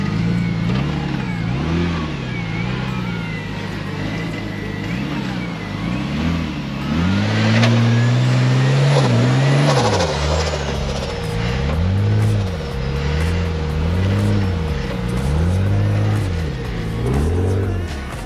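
Duramax diesel pickup truck engine revving hard and rising and falling in repeated surges while climbing a rough off-road track over logs, loud and close throughout with no talk.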